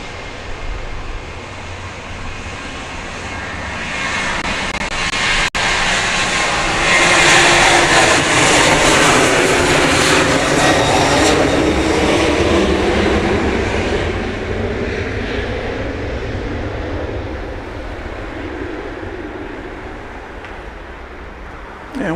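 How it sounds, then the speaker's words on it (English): Delta jet airliner taking off from Grand Cayman airport, a broad loud engine roar that builds, peaks in the middle and slowly fades over about twenty seconds, heard from a distance. "So it looks like Delta is going to take off."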